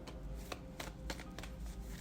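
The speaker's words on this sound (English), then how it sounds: "I kept shuffling the deck" A deck of playing cards being shuffled up close, giving a steady papery riffle with a few sharper flicks and snaps spread through a couple of seconds, heard alone with no talking.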